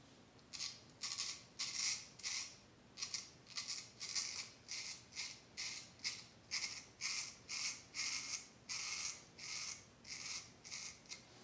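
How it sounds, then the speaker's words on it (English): A straight razor scrapes through facial stubble in a steady run of short, crisp rasping strokes, about two a second, close and clear with brief pauses between passes. "Always good audible feedback from this razor."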